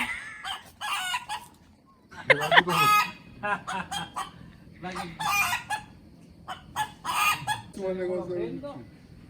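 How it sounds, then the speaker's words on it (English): A rooster perched in a tree in Positano crows loudly and repeatedly among clucking hens, the calls close and bright with short pauses between them, while people speak nearby. "Chicken in the tree."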